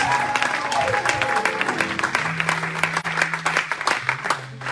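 Congregation applause during a French-language church service, continuous dense clapping throughout with a sustained organ or keyboard note and some voices underneath.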